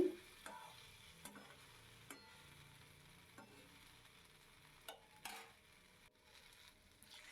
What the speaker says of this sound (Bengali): এদিকে ভালো করে মশলা দিয়ে নাড়ি চাড়িয়ে নিচ্ছি